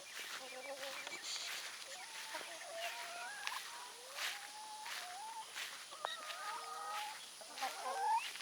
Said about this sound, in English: this is the other rooster